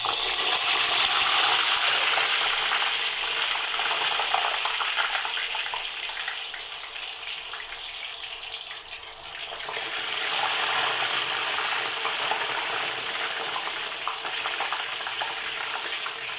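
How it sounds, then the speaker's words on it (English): Potatoes for sautéed potatoes frying in a pan of hot oil, giving a steady, dense sizzle that dips briefly midway and then returns at full strength, heard alone with no talking. "So I will put my first batch of potatoes and make sure that they don't overlap."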